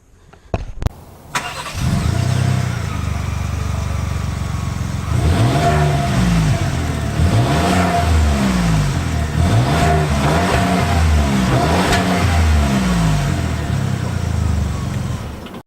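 A 2018 Ford Expedition Limited engine starting with a few clicks, settling into an idle, then accelerating through repeated rising revs as the SUV drives off, loud and close inside the cabin.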